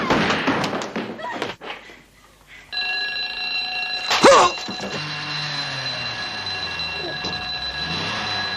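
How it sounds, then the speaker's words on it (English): A National Bank alarm bell on the corner of Grayston Avenue rings in steady, sustained tones after a short stretch of talk, with a loud thump partway through and the ringing continuing evenly to the end. "alarm sounding at the National Bank corner of Grayston Avenue"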